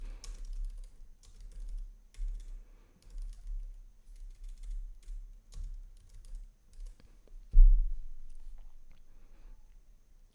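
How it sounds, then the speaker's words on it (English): Soft, close typing on a computer keyboard comes in short irregular bursts of clicks with pauses between, ending with a louder thump, and no speech is heard. "Then I'm going to type into it to change the font."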